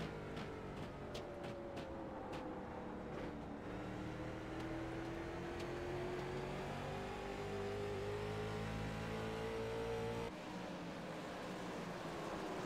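Race car engines drone loudly together on a night short-track oval, their pitch sliding upward as the tightly bunched pack streams past in continuous waves.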